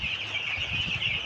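Twenty-five-day-old tiger breed chicks cluck and peep together in a steady, close chorus with a bright, continuous chirping texture and no voices.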